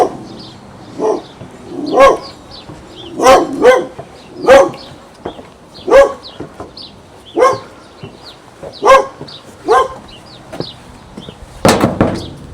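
A dog barks repeatedly inside an abandoned house, loud and close, with roughly a dozen sharp barks in an irregular rhythm and some quieter yips between them.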